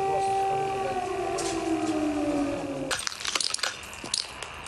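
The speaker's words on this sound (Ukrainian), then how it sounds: "Звук сирени і битого скла." An air-raid siren wails in Kherson during shelling, its falling pitch heard over a noisy street, then gives way to crunching, cracking sounds of broken glass being crushed and swept, close and irregular.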